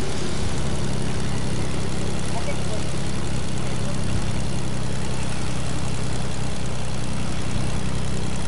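Steady low propeller-plane engine drone in a video game, a continuous heavy hum running throughout with no break.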